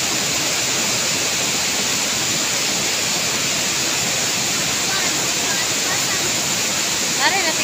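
Natigbasan Falls waterfall roars as a steady, loud broadband rush of falling water that holds constant throughout, with faint chirps near the end.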